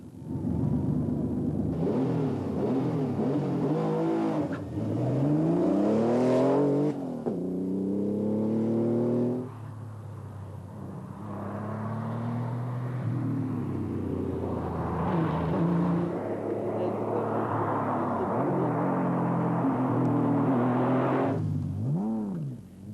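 Aston Martin DB4 GT racing cars on the 2001 Tour Auto, their engines revving hard and sweeping up and down in pitch, loud and close throughout with no voices.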